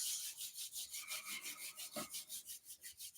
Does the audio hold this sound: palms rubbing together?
yes